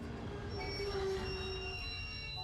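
A train ride in the video game Merchants of Rosewall, with a steady rumbling roll and a faint metallic squeal rising briefly over the continuous rail noise, no voices.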